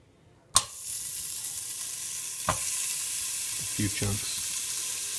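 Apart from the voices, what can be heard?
beef short ribs searing in a pot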